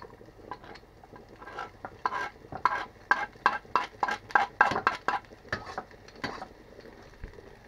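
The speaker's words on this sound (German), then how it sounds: "Wenn alle Speckstücken so leicht gläsern erscheinen, können die Zwiebeln und der Knoblauch dazu." Bacon pieces frying in a pan as onions and garlic go in, with a soft sizzle under a run of scraping stirs and clacks of a utensil on the pan, close, with no talking.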